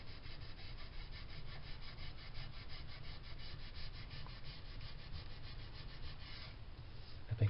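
A Scotch-Brite pad scrubs steadily over a Lakland bass guitar during relic work, a continuous close rasping rub with no talk.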